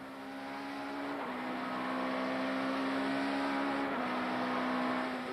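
Touring race cars, Opel Astras and a Nissan, race side by side through a tight left-hander at Kyalami in 1994, giving a loud sustained engine drone with a steady pitch that steps down briefly twice as they change gear.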